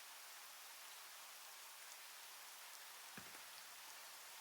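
Rain falling in Final Fantasy 15, a faint, even hiss of steady downpour with no other sound except a soft low thump near the end.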